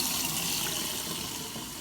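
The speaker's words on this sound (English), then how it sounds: "So we'll add a little bit of warm water like this." Warm water pours steadily into a container holding citrus seeds, a continuous close splashing rush with no talking over it.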